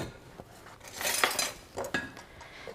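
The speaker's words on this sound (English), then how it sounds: "And then we'll spoon the dough onto the board." Soft bread dough is spooned from a bowl onto a board, a few quiet metal scrapes and clinks of a spoon against the dish with brief rustling, close and fairly faint, no talking.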